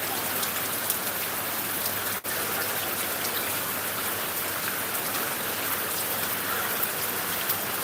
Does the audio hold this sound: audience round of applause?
no